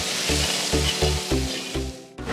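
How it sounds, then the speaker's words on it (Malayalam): Tomatoes fry in masala for a toddy-shop-style prawn curry, a steady close sizzle broken by repeated low scraping stirs in a rough rhythm, with no voices. "നന്നായി ഇളക്കി കൊടുക്കാം."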